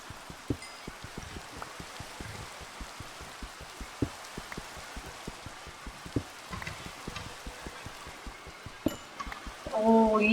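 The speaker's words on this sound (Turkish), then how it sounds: "Ya şu yağmur sesi ne kısa yağmıyor." Steady light rain in Minecraft with distinct droplet taps pattering throughout, fairly soft and even, with a brief brighter tone near the end.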